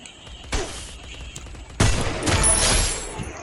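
Gunfire in a shooting video game comes as a burst of shots, then a louder sustained volley of rapid fire, sharp and close.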